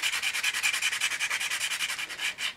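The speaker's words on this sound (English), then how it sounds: "I'll go for the old chainsaw sanding sponge just to get rid of" Steady, rhythmic rubbing of a sanding sponge smoothing a seam, close up, about a dozen quick back-and-forth strokes with no talking.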